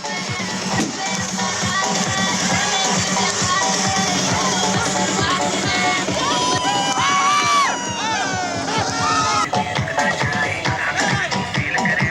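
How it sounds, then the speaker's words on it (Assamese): Crowd of supporters cheering, shouting and whooping after election results are announced, a dense continuous roar of many voices with shrill calls rising over it throughout. "এনেদৰে এতিয়া ফলাফল ঘোষণা হোৱাৰ পিছতে আনন্দ উল্লাসত মতলীয়া হৈ পৰে জয় প্ৰাৰ্থীসকলৰ সমৰ্থকসকল"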